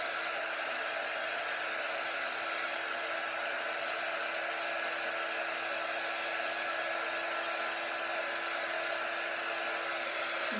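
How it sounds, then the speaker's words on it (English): A hair dryer blows steadily to dry paint on small Christmas ornaments, with an even, continuous whir and hiss at moderate level that stays unchanged for the whole stretch, with no talking. "So let's just dry this paint really fast."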